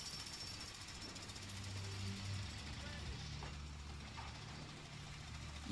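Worker running a jackhammer in the video game A Way Out, a steady loud rattling hammer with low engine rumble underneath, continuing throughout while voices talk over it.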